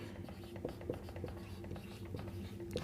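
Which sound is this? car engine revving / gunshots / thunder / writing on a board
writing on a board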